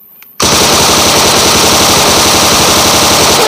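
A yellow toy M4 gun fires a loud, close, continuous burst of rapid electronic machine-gun sound effect that starts abruptly after a brief quiet moment and holds steady to the end.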